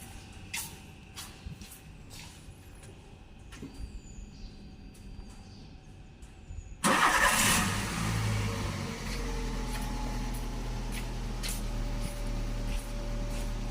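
A car engine cranks and catches about halfway through, then settles into a steady idle that runs on close and loud, replacing the quiet workshop ambience that came before it during a periodic service on a lift.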